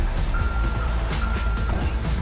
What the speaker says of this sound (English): I'm trying to reverse and make the truck go up